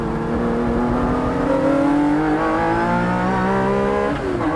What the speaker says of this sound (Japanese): 4速から3速へとシフトダウンの後、インディアナポリスコーナーをクリア。 さらに2速へ落としてアルナージュを抜ける。